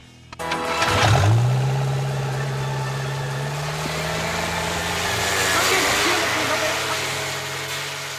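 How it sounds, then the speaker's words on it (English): A deep, steady turbocharged tourist boat engine drones loudly after a brief start-up surge, holding a rumbling idle with a faint rev partway through, near James Bond Island, Thailand. "most of those tourist boats still use repurposed turbocharged engines"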